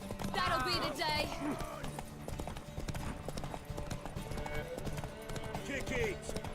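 Horse hooves clip-clop steadily in a Witcher 3 gameplay scene, close and rhythmic, running under overlapping voices and a whinny-like cry.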